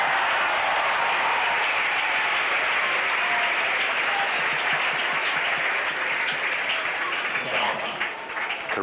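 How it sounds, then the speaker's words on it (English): A tennis crowd at a Becker versus Berasategui match breaks into sustained, loud applause that fills the whole stretch evenly and tapers slightly at the end. "And listen to the crowd"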